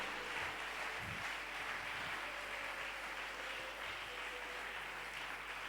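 A church congregation applauds the Lord during a sermon, with steady, dense clapping that fills the room evenly and holds at an even level from start to finish.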